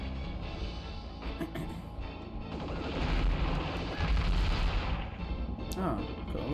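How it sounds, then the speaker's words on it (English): Enemy fire from a clown booth in Future Cop L.A.P.D., a dense rumbling barrage of shots and heavy impacts that swells in the middle, with a voice talking over parts of it. "It's a clown booth shooting at me."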